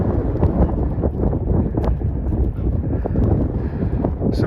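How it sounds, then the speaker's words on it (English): Wind blows hard during snowfall near an off-grid cabin, a rough, gusty rumble buffeting the microphone continuously with faint scattered ticks. "Snowing, wind is blowing as you can hear"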